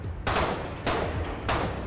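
Gunfire in the war game Foxhole, shot at a motorboat: three loud, dense bursts about half a second long, spaced roughly 0.6 s apart, each with a sharp onset and a short rattling tail, with no talk.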